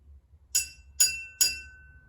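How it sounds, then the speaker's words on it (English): Three distinct ringing tones from a glass partly filled with water, struck at a steady pace, each a clear musical note with bright overtones that sustains and slowly fades, close and alone without voices. "the amount of water affects the vibration rate of the glass"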